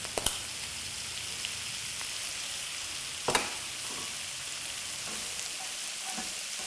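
Onions frying with a sprinkle of turmeric and ground cumin give a soft, steady sizzle, with a couple of sharp utensil clicks against the pan and no speech.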